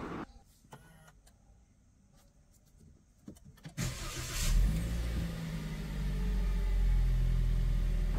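Perodua Bezza car engine starting after some quiet clicks and cabin noises, then a sudden crank and catch into a rising, steady idle rumble that grows louder and holds, with no speech.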